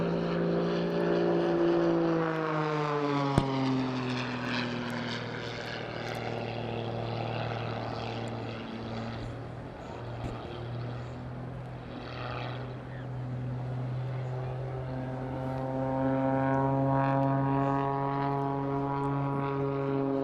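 A Pitts S-2S aerobatic biplane's propeller engine drones loudly through snap rolls and tumbles in a flying display, its pitch rising and falling in sweeping arcs as the aircraft changes attitude, with a brief sharp click early on.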